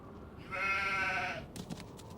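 A single drawn-out sheep bleat in the video game Nancy Drew: The Haunting of Castle Malloy, clear and fairly close, followed by a few light clicks.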